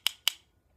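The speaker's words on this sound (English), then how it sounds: "making sure to tap off the excess. That's what that sound was." A makeup brush tapped against an eyeshadow palette, giving two quick, light clicks close up, followed by near silence.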